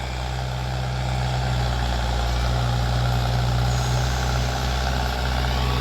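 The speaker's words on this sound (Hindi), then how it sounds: "ये देखो जी 4x4 ट्रैक्टर भी 9 के टीलर पे स्लिप मार रहा है" A 4x4 tractor engine runs steadily under heavy load, pulling a nine-tine tiller through a field and slipping. The deep, continuous diesel drone stays loud and unbroken throughout.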